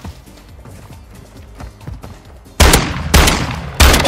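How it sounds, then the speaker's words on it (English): Gunfire in a first-person shooter game: soft game noises and footsteps, then three loud bursts of rapid shots, each cut off sharply, close and dominant. "I'm blasting like five shots and nothing hits"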